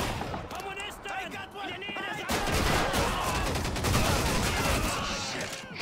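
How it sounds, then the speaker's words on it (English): Suppressed Tommy gun bursts in Call of Duty 2, a rapid rattle of muffled shots that grows denser and louder midway, with a voice talking over the gunfire. "With his super suppressed Tommy gun there."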